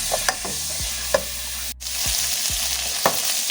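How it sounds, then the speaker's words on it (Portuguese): Thin beef slices browning in a pan, a loud, close, continuous sizzle with scraping stirs and utensil knocks scattered across a few seconds and no voices. "E agora eu vou passar essa carne até ela dar uma boa dourada."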